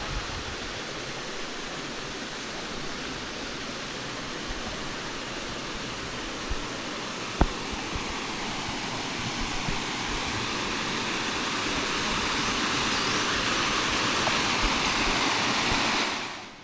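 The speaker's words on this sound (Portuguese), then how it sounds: "O monjolo tá aí, ó, tá enchendo, enchendo, enchendo." Water runs steadily into a wooden monjolo, a water-driven pestle, at a scenic estate in Canela. A constant rushing flow holds throughout, with one faint knock partway through, and no voices.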